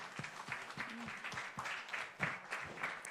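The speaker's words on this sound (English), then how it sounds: "So a big round of applause to all our speakers, chairs, moderators." Audience clapping for speakers, chairs and moderators at a corporate award ceremony, a fairly quiet, uneven patter of hands with a few sharper individual claps standing out.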